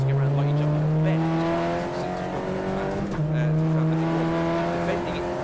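An Audi TTCR touring race car at Knockhill bouncing over bumps and braking, its loud steady engine drone dipping as it crosses the bumps, with a race commentator talking over it throughout.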